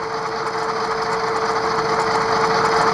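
Rapido GMD-1 model diesel locomotive with an ESU LokSound decoder running its start-up sound, a steady close whine with a constant mid-pitched tone, continuous and moderately loud with no talk.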